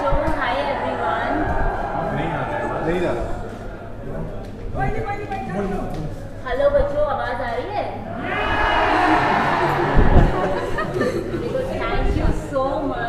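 A large crowd of fans chatters at a meet-up, a dense hum of many overlapping voices with occasional laughter while a nearby person speaks to them.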